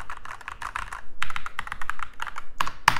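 Keys clatter on a Keychron K10 Pro mechanical keyboard in quick, close typing bursts with short pauses between them, crisp and loud, with no talking.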